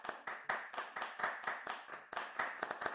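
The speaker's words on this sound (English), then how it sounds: "Let me hear a round of applause." An online audience gives a round of applause at a comedy trivia show, a rapid run of close, bright claps with no talking.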